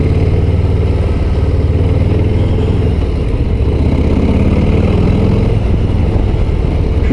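Harley-Davidson Low Rider ST with its 117 cubic inch (1.9 litre) engine, a steady, loud, low rumble while riding in second gear, continuous and without talk.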